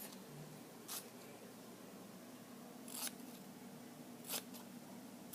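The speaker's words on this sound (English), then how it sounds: "And then you cut it like this." Scissors snipping through duct tape while making a duct tape flower: three or four short, crisp cuts spaced about a second apart over a steady low hiss, close and fairly quiet.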